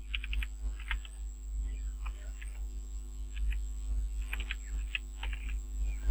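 Someone types an ID card number on a computer keyboard, a few short bursts of light key clicks over a steady electrical hum, close by and sparse, without talking.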